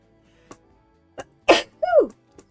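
A single person's sneeze bursts out loud and close, followed by a brief voiced tail, with a few faint clicks before and after in an otherwise quiet room.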